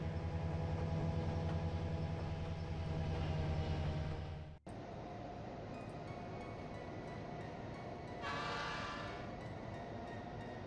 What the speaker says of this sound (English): running this commuter train to the east, to the town of Med